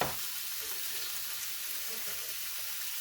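Steak seasoned with black pepper, seasoned salt and onion powder sizzles on a George Foreman grill, a steady close frying hiss that starts with a brief burst and continues evenly throughout, with no talking.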